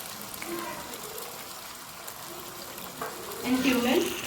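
Ginger garlic paste fries in a pan with a soft, steady sizzle that swells louder near the end, like stirring, beneath a speaking voice.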